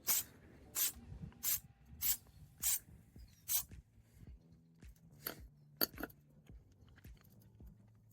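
Truck bed liner coating sprayed from a shaken aerosol can onto a Suzuki Samurai door, heard as about eight short forceful hissing bursts in a steady rhythm, close up, followed by quieter handling clicks.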